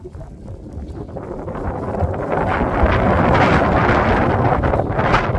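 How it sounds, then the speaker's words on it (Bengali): Strong wind over a snow-covered area roaring against the microphone, building from a gusty rumble into a loud, sustained blast that keeps going. "তার সাথে হচ্ছে প্রচণ্ড বাতাস।"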